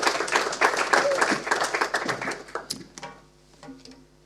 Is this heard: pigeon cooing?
no